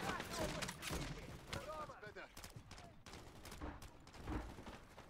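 Gunfire in the Call of Duty MWZ video game comes in repeated rapid bursts at moderate volume, with a voice faintly mixed in among the shots.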